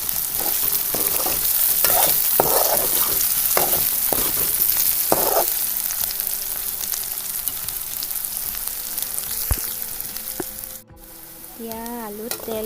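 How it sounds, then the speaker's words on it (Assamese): Potato pieces frying in oil in a pan with turmeric, a steady loud sizzle broken by several bursts of stirring and scraping, easing off toward the end as a few brief clatters and squeaks come through. "এতিয়া আলুকেইডোখৰ অকণমান ফ্ৰাই হোৱালৈ"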